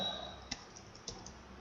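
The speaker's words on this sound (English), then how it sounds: "Now I am adding next I am typing HTML" Keys clatter on a computer keyboard while HTML tags are typed, a few quiet separate clicks over low room hiss with no talking.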